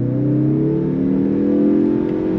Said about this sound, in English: We're gonna do a roll on throttle.